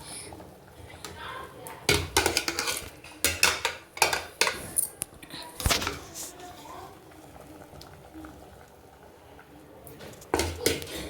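Pots, lids and utensils clatter while chicken dum biryani is cooked, a run of loud metallic clanks and scrapes in bursts, with quieter gaps of simmering between them.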